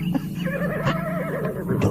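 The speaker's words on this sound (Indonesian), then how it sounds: "suara lagi kuda. Ada yang datang." A horse neighs loudly and close at hand, a long wavering whinny with a few faint hoof clops in the background, set in a radio drama.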